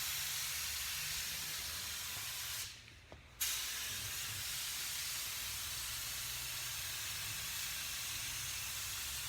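Broad steady spray hiss of primer being applied to a Toyota Supra body, continuous for several seconds with a brief pause partway through, close and fairly loud.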